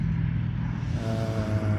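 Traffic rumbles steadily on the Kopchegay highway near the Kompas filling station, a low continuous drone with a vehicle passing, moderately close and with no talk.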